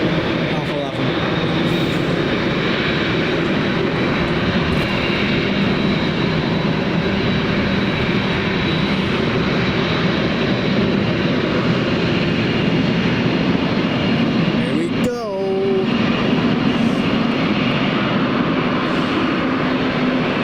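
A Boeing 787 Dreamliner at Manchester Airport fills the air with a loud, sustained engine roar that holds steady throughout, with talk briefly heard over it.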